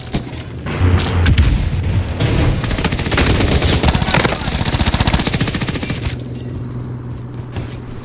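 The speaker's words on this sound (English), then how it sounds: "Taking direct fire!" Rapid automatic gunfire from Call of Duty: Cold War Warzone, with KRIG-6 and PPSh weapons, rattles loud and close in dense sustained bursts and fades into quieter ambience near the end.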